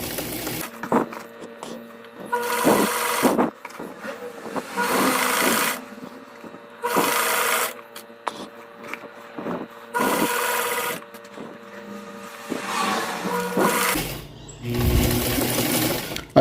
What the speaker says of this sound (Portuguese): E aqui nós vamos costurando assim com calma